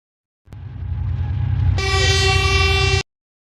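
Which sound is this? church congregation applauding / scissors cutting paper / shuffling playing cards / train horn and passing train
train horn and passing train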